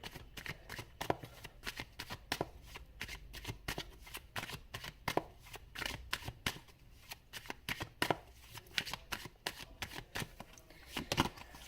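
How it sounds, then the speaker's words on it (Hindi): Tarot cards being shuffled by hand, close and crisp, with repeated rapid riffling bursts and sharp card snaps continuing steadily throughout, with no talking. "पर एनीवेज मैं इसको वापस से शफल करूंगी"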